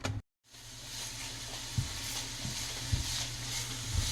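Beef cooks in a hot pan with a steady bright sizzle, punctuated by a few low knocks of utensils against the pan, close and moderately loud after a brief cut near the start.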